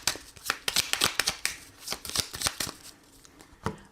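A deck of oracle cards shuffled up close, giving a rapid run of crisp riffling slaps that trails off near the end.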